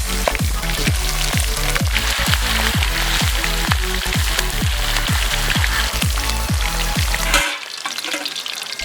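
Loud, steady sizzling of chicken frying in hot oil with a rhythmic bubbling pulse, cutting off abruptly near the end.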